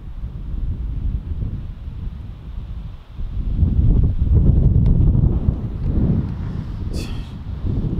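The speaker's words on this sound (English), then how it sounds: "I don't know if you guys can hear this wind, but it's just, I mean, look, it's blowing a camera in my hand." Strong cold-weather wind buffets a handheld camera out fishing, a loud, low roaring rumble that swells and gusts throughout, briefly dipping before surging harder.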